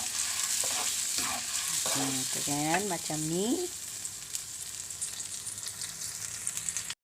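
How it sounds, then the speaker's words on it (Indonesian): A tomato chili sambal with beef sizzles and bubbles steadily in a frying pan, a continuous close hiss as someone speaks briefly over it. "ini sambalnya sudah mendidih"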